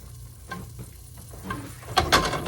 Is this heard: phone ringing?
no